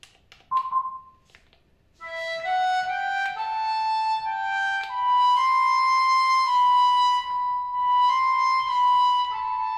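Flute voice from a Roland Aerophone mini AE01 digital wind instrument: a short breathy note, a brief pause, then a smooth melodic line of sustained, bright tones with small steps in pitch, played close and alone.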